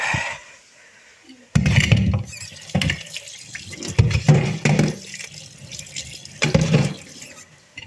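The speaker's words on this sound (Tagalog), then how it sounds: "Lasan muna natin yung takip." A pot lid is rinsed under a running kitchen tap, water splashing and drumming in uneven bursts after a quiet start, close by with no talking.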